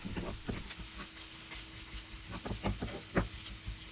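Crushed ginger and garlic sauté in a hot pan for a lobster pepper roast, giving a soft continuous sizzle broken by scattered clicks and scrapes of stirring, close and unvoiced.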